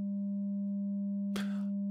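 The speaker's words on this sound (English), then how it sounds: "Now you have a sine wave here." A steady 200 Hz sine test tone from a tone generator, feeding a guitar distortion effect programmed on a Sigma DSP ADAU1452, hums continuously throughout, with a brief noisy burst near the end.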